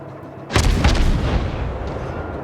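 A heavy naval gun salvo from a Gremyashchy destroyer in the World of Warships game, one loud booming blast with a long rumbling tail, close and without talk.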